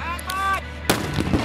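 Gunfire during army weapons training in Afghanistan's heat, a single loud broadband shot bursting in near the midpoint after a quieter stretch of tonal background, with its crack and rumble lingering to the end.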